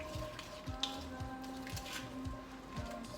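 A wooden spoon stirs seasoned beef for beef bourguignon in a pot, making quiet, rhythmic scraping strokes about twice a second over a soft background sizzle.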